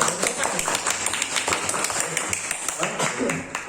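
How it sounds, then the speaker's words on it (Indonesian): Claps from an audience at a teacher-training presentation session, a quick scattered run of handclaps, fairly close, with voices talking over them throughout. "Jadi tepuk tangan buat kita semua"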